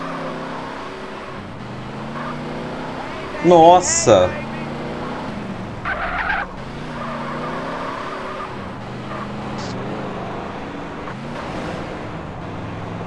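A car in GTA San Andreas handles badly, its engine droning steadily throughout with a brief screech or impact near the start and another a couple of seconds later, while someone talks over it.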